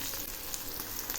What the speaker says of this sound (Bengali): এই রসুনগুলো আমি একটু লাল লাল করে ভেজে নেব।